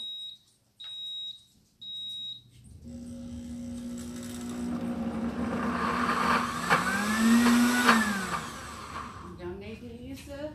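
An electric grinder switches on after three short electronic beeps and whirs loudly, its pitch rising and sweeping as it works through cauliflower for a bake, with a voice speaking faintly in the background.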